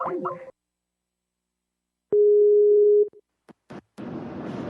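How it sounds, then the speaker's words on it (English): Skype call disconnect tone: a single steady electronic beep lasting about a second, loud and clear, after a short burst of voice and silence, followed by clicks and noise. "That sound means Skype has left the building."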